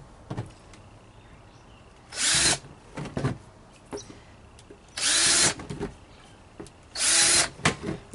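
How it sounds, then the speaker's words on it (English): Power drill boring drainage holes in a 25-gallon plastic tote for a worm composter: three loud, close bursts of whirring drilling about two seconds each, separated by quieter handling clicks. "I'm going to put some drainage holes in it"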